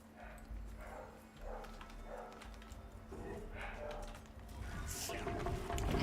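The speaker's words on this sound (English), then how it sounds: "The dogs are going crazy." Dogs at home bark in a series of repeated, muffled barks off-mic, faint and somewhat distant over a steady low hum and background noise.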